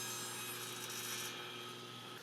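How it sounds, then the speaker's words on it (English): A long bolt being cut off at six inches, a steady continuous grinding-saw rasp that stays loud and even throughout, with the bright high edge easing slightly partway through. "I'll cut this off now at 6 inches."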